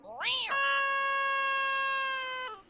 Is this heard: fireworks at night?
no